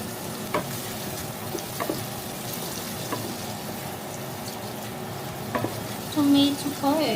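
Garlic and onion sizzle in hot oil and butter with occasional stirring clicks, a steady near fry crackle throughout and a faint squeaky clatter toward the end.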